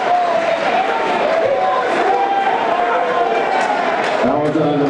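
A high school basketball gym crowd gives a mocking air ball cheer, a steady loud roar of many voices with an announcer talking over it.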